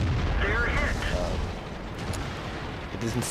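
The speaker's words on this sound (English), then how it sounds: "it doesn't sound like a bounce, but I didn't take any damage, so I'm assuming it's HE" A high-explosive shell strikes a heavily armored tank in World of Tanks, a muffled boom that settles into a steady low rumble under a voice.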